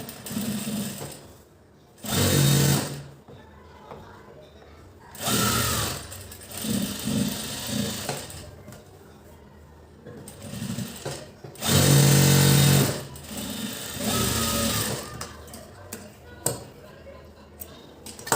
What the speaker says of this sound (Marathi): आपण फिटिंगची शिलाई देऊया